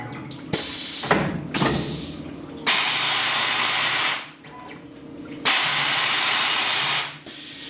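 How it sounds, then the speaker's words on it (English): Compressed air blasts on a Tormach CNC machine during cleanup of a 12 ft tube, three long loud hissing bursts separated by short gaps over a low mechanical hum. "So there's that little blast cleanup line that I put in there."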